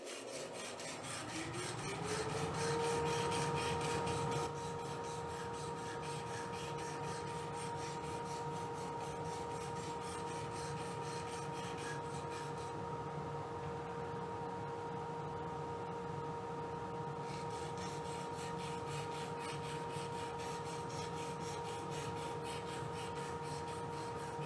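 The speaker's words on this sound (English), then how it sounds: "you can start rounding off the edges of the binds with the sandpaper." Sandpaper rubs against a spiral wood finial spinning on a lathe, making a steady soft rasping hiss over the constant hum of the motor that lasts throughout at a moderate, even level.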